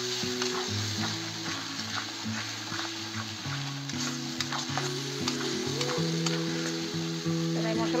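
Spice paste and tomato are sautéed in a pan for a broccoli, potato and pea dish, giving a low steady sizzle and light stirring taps under sustained background music tones, with no talking.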